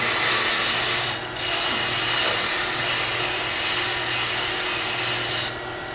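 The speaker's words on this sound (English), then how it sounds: "I have a stick with a piece of sandpaper on 80 grit, which I then can run across this bottom." Tagua nut hollow form being flattened on its bottom by a stick wrapped in 80-grit sandpaper: a continuous, close, dry rasping scrub with brief pauses between strokes, and no talking.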